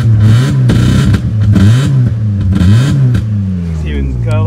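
A car engine fitted with a loud aftermarket exhaust pipe revs again and again, its rough, blatting pitch rising and falling in repeated surges, loud and close, while someone talks over it.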